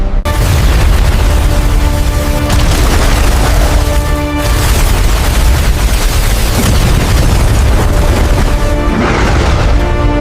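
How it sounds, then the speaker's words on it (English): A huge, roaring explosion that stays loud and dense throughout, with rumbling low booms and crackling blasts layered over one another. "A massive explosion filled the arena."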